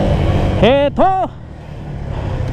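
Evening road traffic near a seminary on a motorcycle ride from Antipolo to Makati makes a steady engine and traffic hum throughout, broken by a short, clear voice near the start.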